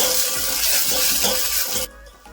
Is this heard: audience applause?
no